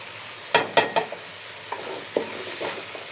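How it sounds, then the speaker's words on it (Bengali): Rice frying and being stirred in a pan with ginger paste and salt: a soft steady sizzle, broken by several sharp scraping strokes of a utensil against the pan, close up and with no talking. "এখন ভালো করে চালটাকে আমি ভেজে নিব"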